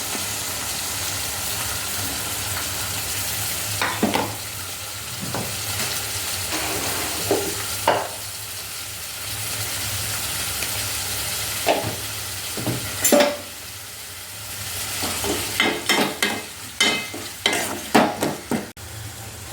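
Green chillies and onions with salt fry in a pan with a steady sizzle, broken by several scraping stirs that come closer together toward the end.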